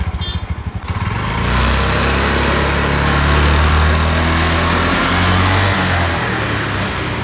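A Honda Activa 4G scooter with a white-smoke problem idles steadily and loudly after a brief uneven start, its small engine holding a continuous droning hum throughout, with no talking.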